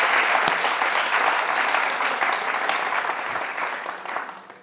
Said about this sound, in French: Ça s'applaudit, je crois.